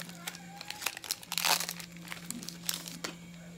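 A Pokémon card booster pack wrapper is torn open with close crinkling and a sharper tearing rip near the middle, against a faint steady hum.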